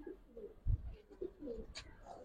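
A Giribaz pigeon gives soft, low coos nearby, with a few brief throaty bursts over faint background noise.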